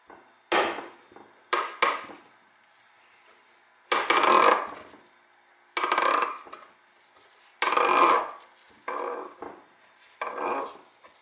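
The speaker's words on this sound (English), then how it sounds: "reset the puller again. hopefully this will get the bearing off this time." A bearing puller works a bearing off a Honda CRF50 crankshaft, giving a series of separate, loud, close knocking and grinding bursts about a second long, with quiet gaps between them.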